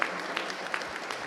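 Crowd applauding a women's basketball team after a game between Istrana and Bolzano in an indoor gym, steady moderate clapping from a smallish crowd, alone without talk.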